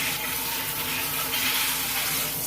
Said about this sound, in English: Let me rinse these gloves off real quick